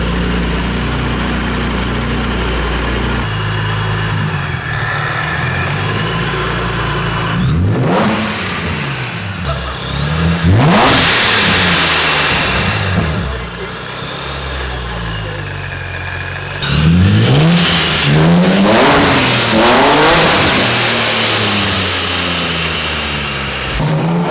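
A supercharged Infiniti G35 engine is revved repeatedly, with sharp rising and falling sweeps between idle stretches and several strong bursts close to the car.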